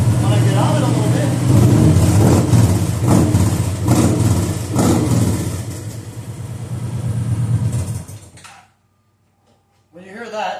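A motorcycle with baffled exhaust pipes revs up and down in several loud, swelling bursts close by, then cuts off abruptly into near silence before a faint sound returns.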